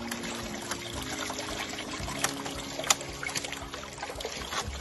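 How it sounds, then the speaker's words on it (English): Water pours and trickles steadily down a tilted gold prospecting sluice box, with a few light clicks and knocks on top of the constant flow. "The sluice box, what we do is put this at an angle, and we'll run the water down through here."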